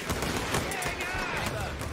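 Dense gunfire crackles in Company of Heroes 3, with rapid overlapping shots and machine-gun bursts forming a continuous loud barrage with no pauses.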